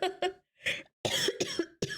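A woman coughs in a series of short, sharp bursts, two quick coughs, a brief pause, then three more, close to the microphone and fairly quiet overall.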